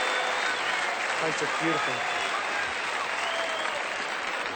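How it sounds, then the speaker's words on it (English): A cricket crowd at Adelaide Oval applauds Graham Gooch's cover drive in a 1979-80 World Series Cricket match between England and West Indies, steady, dense applause filling the whole stretch beneath a commentator's voice. "The crowd enjoying the shot."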